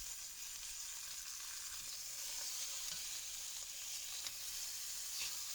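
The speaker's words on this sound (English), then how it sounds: "some olive oil and just get it nice and hot for a good sear" Lamb osso buco sears in hot olive oil with a steady, even sizzle and faint pops throughout, and no voices.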